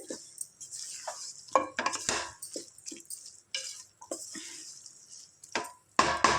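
A spoon scrapes and clinks against a pan while potato and brinjal curry is stirred, producing irregular close metallic knocks and soft wet squelches in short bursts.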